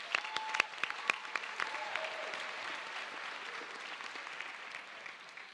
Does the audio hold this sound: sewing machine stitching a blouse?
no